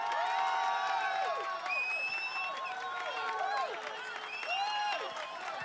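A stadium crowd in Football Manager 2021 roars and cheers after a goal, a dense, continuous swell of voices with rising and falling chant-like tones throughout.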